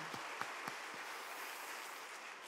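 A church congregation at a Sunday service applauds, a faint, distant wash of many hands clapping steadily throughout, with a few sharper individual claps near the start.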